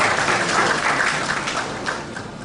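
Seminar audience at a business development seminar and expo giving a round of applause, a dense, even clapping that gradually fades over a couple of seconds with no speech.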